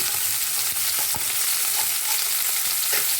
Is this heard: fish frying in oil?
yes